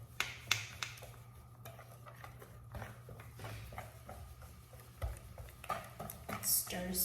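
Cornbread batter ingredients are mixed in a bowl, giving soft scraping and intermittent clinks of a utensil against the dish, faint and irregular, with a low steady hum underneath and occasional speech nearby.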